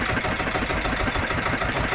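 A diesel engine on a small fishing boat out on handline fishing drones and vibrates continuously, a dense, steady mid-low hum close by and fairly loud, with no talking.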